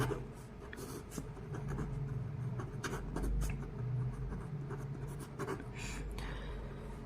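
Chalk or marker scratching and rubbing across a board during a maths lesson on rational numbers, a steady run of close strokes and taps with no talk.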